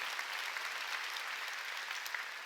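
A church congregation claps during a Sunday worship service, an even, sustained patter of many hands at moderate, slightly distant level with no talking.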